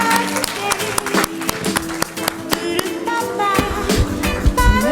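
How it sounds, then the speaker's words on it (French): An audience at a school francophonie competition claps loudly for students on stage, with irregular, close hand claps and stomps scattered over a murmuring crowd. "on les applaudit très fort"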